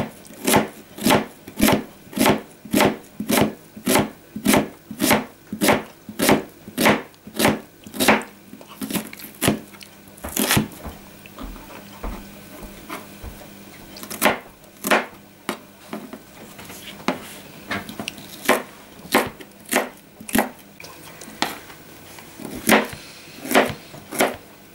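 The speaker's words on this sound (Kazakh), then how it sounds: "Міне енді пиязын турап алыңыз" Onions being chopped on a board for kuyrdak: about thirty sharp, evenly spaced knife strikes in a brisk steady rhythm, with a short pause midway before the chopping resumes, close and clear with no talking.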